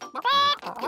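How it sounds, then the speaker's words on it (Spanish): Farm chickens being fed corn make short, close clucks, with one sustained squawk in the middle of the burst. "¿quieren darles de comer a las gallinas?"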